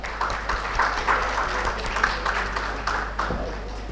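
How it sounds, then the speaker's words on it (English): Moderate applause from an audience at an urban infrastructure business summit, an even patter of clapping over a low hum, lasting several seconds without speech. "Can we please have a big round of applause for sir?"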